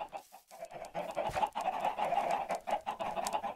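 Chickens in a Minecraft chicken farm clucking, a rapid overlapping run of close, fairly loud in-game clucks and squawks heard alone.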